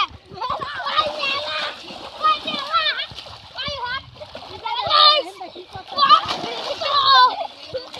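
Children splash and bathe in rainwater floodwater, loud and close by, with repeated bursts of splashing mixed with excited children's voices and shouts.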